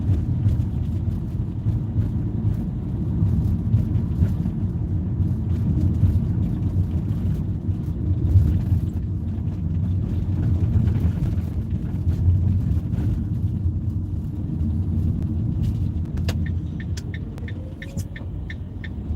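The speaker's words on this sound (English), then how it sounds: "those electric buses sound weird" Electric buses rolling past on a city street, a steady low rumbling hum that stays loud throughout, with a faint rising whine and some light ticking near the end.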